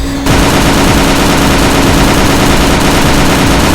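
Rapid continuous gunfire from a weapon in the video game Perilous Warp, a dense loud unbroken stream of shots filling the whole stretch, close and without voices.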